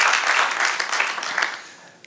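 Church congregation clapping together in a dense, even burst of applause that tapers off over a couple of seconds.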